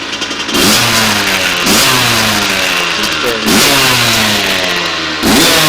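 A 2000 Kawasaki KX80 dirt bike with some engine work revs hard and close, several sharp throttle blips climbing and falling in a repeating rhythm over its raspy two-stroke idle, with no voices.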